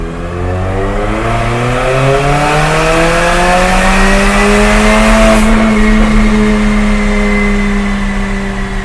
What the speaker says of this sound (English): We just ran the ARMYTRIX in open mode, which gives it a much louder tone.